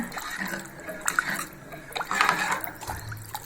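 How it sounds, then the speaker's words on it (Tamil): Water splashes and trickles into a pressure cooker of barley porridge in uneven bursts, fairly close, with a few clinks and knocks of cookware around it. "இப்போ இந்த இதெல்லாம் மூணு கப்பு தண்ணி ஊற்றிருக்கேங்க"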